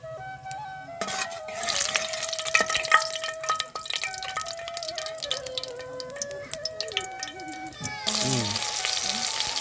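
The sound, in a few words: nigella seeds frying in hot oil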